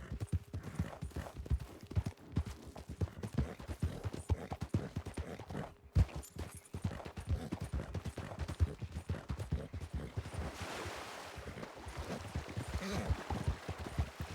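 A horse in the Wild RP video game gallops with rapid, steady clip-clop hoofbeats throughout, loud and close, with brief gunfire-like pops and a short lull near the middle.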